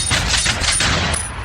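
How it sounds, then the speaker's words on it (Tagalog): A gunfire sound effect played from a V8s sound card bursts out as a loud, rapid rattle of shots, dense and continuous like automatic fire, cut off abruptly at the end. "gusto ko po parang ratsyadahin ng baril, pwede ko na pindutin yung gun sound na effects"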